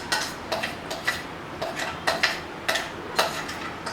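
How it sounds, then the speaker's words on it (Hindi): Spice mixture with sesame seeds, peanuts, chili, ginger and garlic is worked into raw batata vada dough in a bowl, giving repeated sharp clinks and scrapes of a utensil against the dish at an irregular, brisk rhythm. "ये सब जो मसाला है वो इसके अंदर मिक्स कर रही हूँ।"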